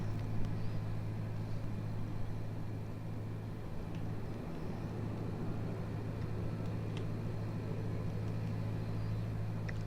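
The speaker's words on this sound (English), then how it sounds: "that vehicle has got its engine running" A vehicle engine idles at the airport fire station of Humberside Airport in Microsoft Flight Simulator 2020, a steady low hum holding level throughout with no talk over it.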